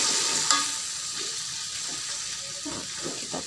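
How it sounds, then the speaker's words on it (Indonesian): Marinated chicken for teriyaki sizzles in a hot pan with a steady, close frying hiss, broken by a few stirring scrapes. "Istilahnya kita kayak goreng ya."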